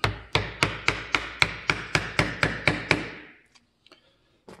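A mallet strikes a hand chisel in wood carving of a plate with hand tools, about a dozen sharp, evenly spaced knocks at close range, then quiet.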